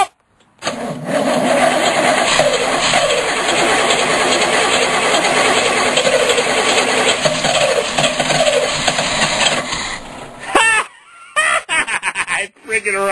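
An old Torohome motorhome engine runs steadily after a cold crank, a loud sustained drone under excited voices before cutting off into short clattering bursts near the end.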